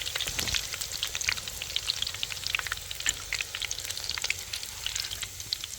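Raw jackfruit kabab fries in hot oil, giving off a continuous bright sizzle with dense crackling pops that stays close and steady throughout, with no voices.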